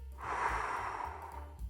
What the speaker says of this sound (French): Expirez pour chasser l'air de vos poumons.